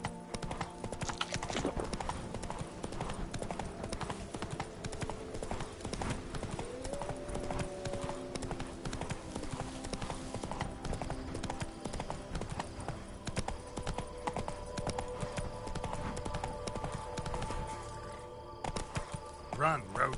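Roach, the horse in The Witcher 3: Wild Hunt – Blood and Wine, gallops with a steady, driving clip-clop of hooves running throughout, layered over game music and ambience, with a voice speaking at times.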